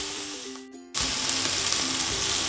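Onions and green chillies sautéing in hot oil in a village kitchen for palak chicken, a steady loud sizzle that drops out briefly and then returns full and continuous with faint stirring.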